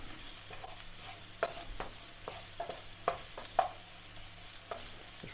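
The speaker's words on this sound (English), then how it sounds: "Don't burn your onions if you can avoid it." Onions frying in a pan, seasoned with garlic, sweet chili sauce, barbecue sauce, salt and pepper, give a quiet steady sizzle broken by several clinking stirs from a utensil, close by and with no talk.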